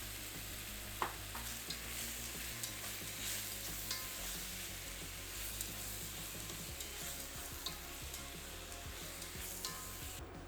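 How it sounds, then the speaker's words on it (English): Pork belly and tomato sauté in a hot pan for Vietnamese eggplant soup, producing a continuous, dense frying sizzle with scattered small pops and clicks from stirring. "Add tomato and saute for another 2 minutes."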